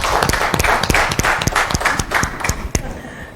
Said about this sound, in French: On va applaudir ces enfants.